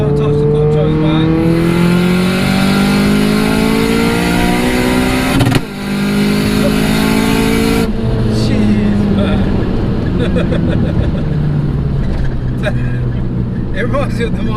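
A 544bhp Audi S3 engine revs hard, its rising, winding tone climbing steadily through the gears, loud and close from inside the car, with people talking over it.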